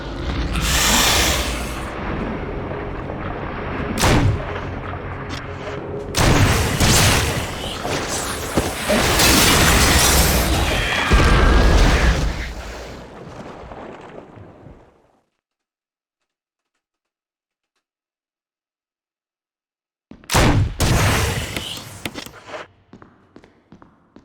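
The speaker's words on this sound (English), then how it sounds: "I'm actually just trying to get rid of the acid rounds at this point." A grenade launcher fires acid rounds in the PC Resident Evil remake: a run of loud, booming blasts packed into the first fifteen seconds, then dead silence, then a few more sharp shots near the end.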